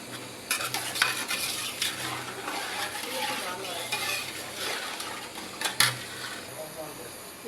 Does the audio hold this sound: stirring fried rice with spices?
yes